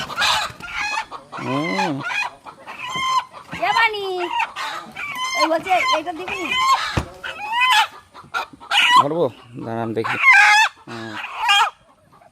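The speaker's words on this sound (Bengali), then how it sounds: "এই হচ্ছে মোরগ, দেশি মোরগ" Desi country roosters in a village yard cluck and crow close by, their calls mixed in with almost continuous talking from people nearby.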